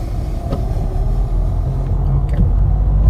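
A car pulls away from a stop and accelerates in first gear as part of a driving exercise, giving a low, steady engine rumble heard from inside the cabin, continuous and fairly loud for a few seconds, with no talking.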